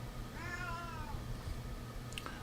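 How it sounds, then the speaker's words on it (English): A house cat meows repeatedly in the background, wanting to be let outside, with rising and falling drawn-out cries over a steady room hum, fairly distant and not very loud. "Other than my cat in the background. She's wanting outside, hopefully."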